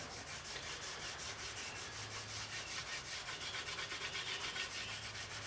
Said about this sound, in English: the wax polish. This cloth, polishing cloth. And I'll just do the whole bat.